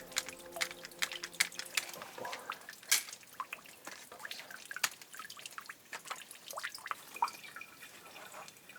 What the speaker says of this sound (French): La pompe semble bloquée. Donc on y va au compte-gouttes.